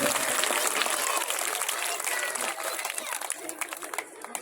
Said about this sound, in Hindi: एक बार जोरदार तालियां से दोनों हाथ खड़े करके गुरुजियों का स्वागत के लिए